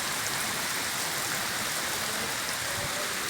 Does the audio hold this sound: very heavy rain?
yes